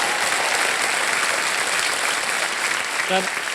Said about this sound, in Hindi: तालियों के साथ इनका भी हम अभिनंदन करते हैं